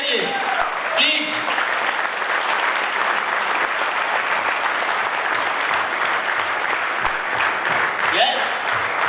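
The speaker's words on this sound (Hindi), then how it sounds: "तो आप लोग खड़े होकर निकोला के लिए जोरदार क्लैपिंग करिए प्लीज।" An audience at a Healy event in Indore stands and applauds for Nikola Tesla's birthday, a loud, dense and steady wash of many hands clapping that lasts the whole stretch without letting up.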